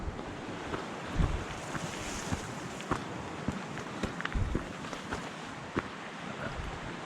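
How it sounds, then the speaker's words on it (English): Steady rushing water noise of a creek flowing nearby at a trail crossing in Glacier National Park, Montana, with gusty wind buffeting and occasional small knocks throughout. "This is where we cross the creek."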